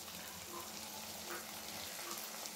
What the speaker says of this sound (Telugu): ఇలా అన్నీ బాగా పట్టేట్టుగా ఫ్రై చేసుకోవాలి